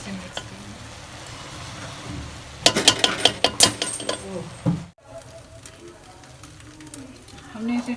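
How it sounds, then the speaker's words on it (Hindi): Zarda sweet rice ingredients are stirred and mixed in a pot, with a sizzling background and a burst of scraping, clattering stirring in the middle, then quieter cooking sounds. "अब हम इन सबको इसमें डालेंगे, मिक्स कर देंगे।"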